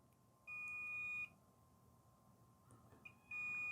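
A multimeter sounds its continuity beep while probing an old coaxial TV cable: two steady, fairly loud electronic tones, each lasting under a second, separated by a quiet gap with faint handling noise.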